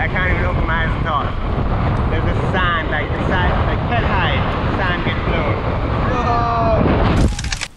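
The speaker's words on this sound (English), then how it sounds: "it's so windy, like I can't even open my eyes and talk" Strong wind buffets the microphone in a loud continuous roar while rigging up for kiteboarding, with a voice talking underneath it.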